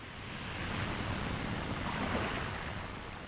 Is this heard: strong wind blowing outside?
yes